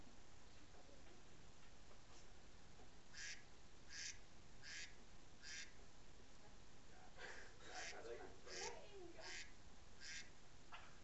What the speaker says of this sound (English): It's my duck. It's my pet duck, Reggie.